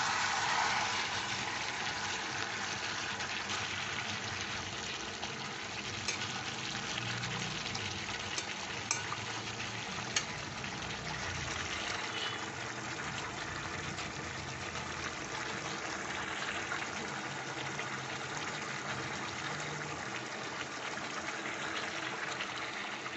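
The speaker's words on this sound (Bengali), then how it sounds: "সেই গরম জলটা এখানে ঢেলে দেবো।" Hot water poured into a pot of cooked, browned chicken for a chicken dak bungalow curry, giving a steady, fairly loud sizzling and bubbling wash that holds evenly for the whole stretch with no voices.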